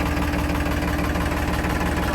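A tractor's diesel engine runs steadily at idle, a continuous low rumbling drone with a faint knocking pulse, close by and alone with no voices.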